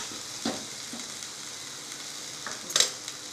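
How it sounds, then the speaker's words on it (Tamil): Mint, garlic and ginger sauté in oil for chutney, giving a steady, soft sizzle with a few brief stirring scrapes, fairly faint and with no talking. "சட்னி ரெடி பண்ணதுக்கு வதக்க போகிறேன்"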